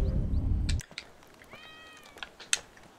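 A cat in Grand Theft Auto V gives a couple of short, high meows after a loud burst of low game noise, with faint clicking, like typing, around it.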